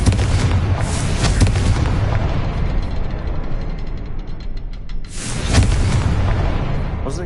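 Loud explosive blasts from the Confringo spell in the video game Hogwarts Legacy, a dense rumbling burst followed by a second booming detonation after a brief dip, with no talking.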